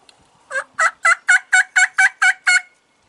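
Nine rapid, evenly spaced gobbles rattle out loud and close, a Primos turkey call imitating a wild turkey's gobble, standing alone in the quiet.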